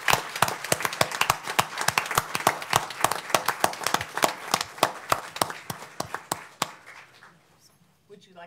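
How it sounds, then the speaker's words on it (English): A small room of people claps for Joyce and the HR team at a Montgomery County Board of County Commissioners meeting. The claps are sharp and distinct, hold steady for several seconds, then thin out and fade. "Let's give a round of applause for Joyce."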